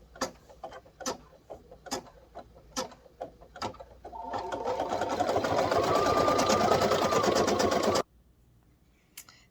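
An embroidery machine stitches the applique placement step for a hand sanitizer holder: first a series of sharp, evenly spaced ticks, then a loud steady whirring run of about four seconds that stops abruptly.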